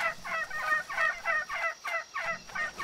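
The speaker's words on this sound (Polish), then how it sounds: "Jest osiągnięcie, żeby zestrzelić indyka" A wild turkey gobbles in Shadow of the Tomb Raider, a close, loud run of rapid rattling gobbles repeated in quick bursts throughout, with no talking over it.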